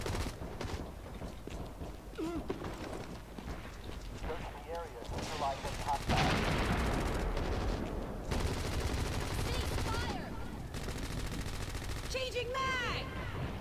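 Rapid bursts of automatic gunfire from the video game Hazard Ops, with strong recoil, crackle through most of the stretch alongside voices talking.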